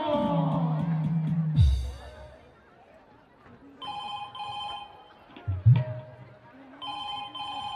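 A telephone rings in repeated electronic bursts over a noisy background, with a low roaring sound early on and at one point later.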